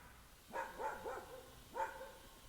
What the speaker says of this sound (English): You can hear our neighbour's dog in the background.